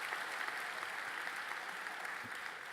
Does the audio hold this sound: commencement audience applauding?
yes